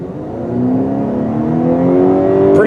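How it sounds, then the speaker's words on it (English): A 2020 Honda CR-V Hybrid accelerates hard in sport mode, its CVT holding a steady, rising engine drone that swells evenly and close for a few seconds with no talking. "Get that droning noise that CVT transmissions always cause"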